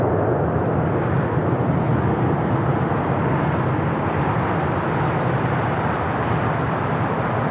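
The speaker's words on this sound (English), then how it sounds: "Let's go to our first takeoff here on the south side." An airliner roars on takeoff at LAX as a steady, loud, broadband engine rumble that holds at a constant level throughout, with no voices heard.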